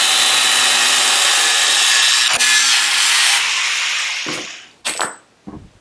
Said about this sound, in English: we're going to cut off this bolt and all these little pieces here to begin with